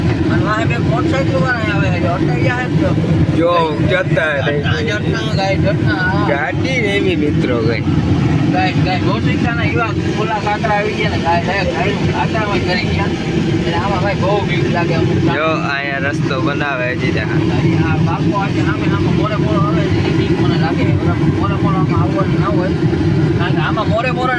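A loaded vehicle drives along a rough, broken road, giving a steady engine and road rumble with jolts beneath nearly continuous nearby talking.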